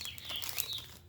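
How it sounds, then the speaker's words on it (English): A loud bird calls outdoors, a bright repeated chirping and whistling over about a second, close and clear with no talk. "That's a loud bird."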